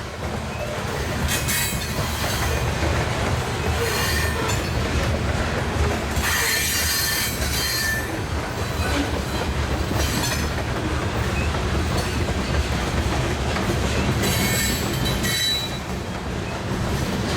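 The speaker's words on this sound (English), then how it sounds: "That's pretty long UP detour train." A long Union Pacific freight train on a detour rumbles past nearby, a continuous heavy roar with rhythmic wheel clatter and occasional squeals, steady for the whole stretch.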